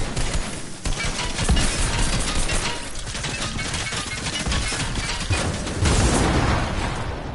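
A big explosion erupts as a loud, sustained roar of crashing, rumbling blasts, with broadband bursts that swell and recede over several seconds, no voices over it.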